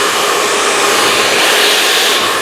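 A handheld hair dryer blows steadily and loudly throughout while hair is being blow-dried in styling, a continuous close whoosh with no speech.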